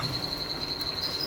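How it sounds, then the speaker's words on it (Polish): A locust at a zoo gives a thin, steady high-pitched chirring drone, faint and continuous for a moment, with no talking. "Szarańcza."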